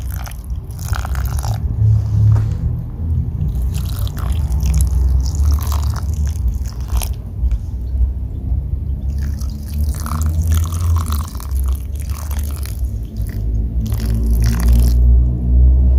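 Water from soaked banana and onion peels is poured into potted Naga chilli plants. The close, irregular trickles, splashes and soggy crackles soak into the compost mix for several seconds.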